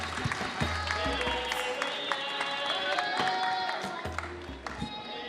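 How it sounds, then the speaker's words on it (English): An audience at a Web Summit panel claps as a speaker is welcomed on stage, a moderate wash of applause with a few sharp nearby claps and some voices and stage noise mixed in. "Big round of applause for Alejandro."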